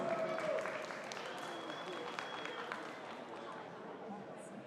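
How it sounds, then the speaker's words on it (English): An audience gives a round of applause to welcome the next speaker at a community event. The clapping is a faint, even patter that stays soft and distant throughout. "Miss Kathy Chisholm, let's give her a big round of applause."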